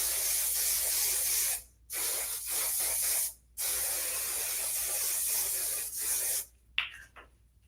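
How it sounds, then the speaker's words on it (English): Moroccan Oil hairspray hisses from an aerosol can onto hair in three long bursts with brief pauses, followed by shorter spritzes, close and clear with no talking. "Again, spraying the top layer with the same Moroccan oil"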